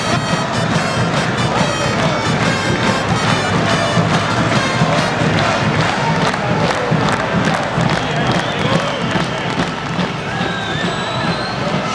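A home crowd at a Tartu University volleyball match roars and cheers continuously, with loud rhythmic thumping and chanting that stays intense and close throughout.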